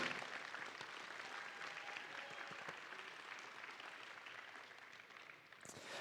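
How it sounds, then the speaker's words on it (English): Steady applause from a crowd at a robot battle competition, sustained clapping throughout with no talking, dipping slightly near the end before picking back up. "Round of applause."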